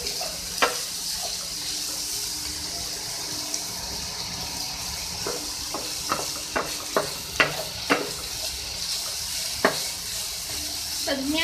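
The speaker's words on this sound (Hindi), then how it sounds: "अब मैं इसमें शिमला मिर्च ऐड कर रही हूँ, ठीक है, कैप्सिकम। इसको थोड़ा सा फ्राई करें।" Capsicum being fried in a pan for a chicken mayo vegetable sandwich filling, with a soft continuous sizzle and scattered sharp clicks and scrapes of a spatula stirring.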